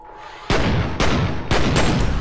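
Heavy blasts in the first-person shooter game F.E.A.R. strike three times in quick succession, each a loud, sharp boom with a rumbling tail.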